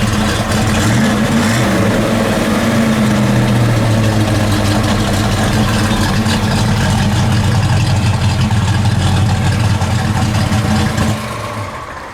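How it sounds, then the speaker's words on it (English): A 1970 Ford Mustang Boss 302 V8 engine idles deep and loud with an uneven, loping, choppy rumble for several seconds, then drops off near the end. "This thing sounds so cool, the choppy idle."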